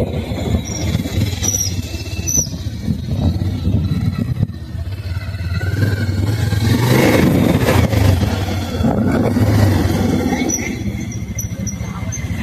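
A Pulsar 220 motorcycle engine rumbles steadily, then swells into a louder rev before easing back, heard close and continuous for about twelve seconds.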